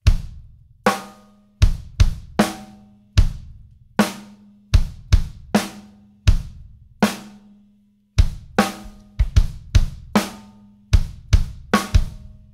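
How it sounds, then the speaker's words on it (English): Standard 4/4 rock groove on a drum kit played without the right-hand cymbal or hi-hat part: punchy kick and snare hits with rack tom accents, in a clear repeating pattern, close and loud with no talking. "So we keep that going steadily over top of what I would describe as a, you know, pretty standard sounding 4-4 rock groove."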